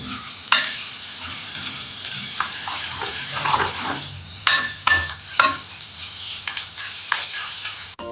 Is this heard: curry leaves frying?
yes